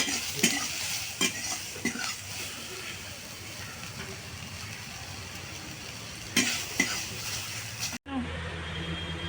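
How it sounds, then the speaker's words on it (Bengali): Shrimp and small fish fry in a pan with very little oil, seasoned with turmeric and a little salt, giving a steady soft sizzle broken by a few sharp scrapes and clinks of stirring, then an abrupt cut near the end. "এইগুলো একদম কম তেলেই ভাজতে হয়, ভালো ভাজা যায়।"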